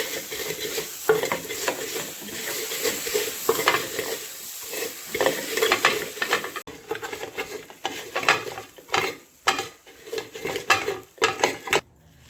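Green chili thecha with roasted peanuts, garlic and salt is crushed by hand in a pan off the heat: rhythmic scraping, grinding and knocking strokes in uneven bursts, close and moderately loud, with no talking.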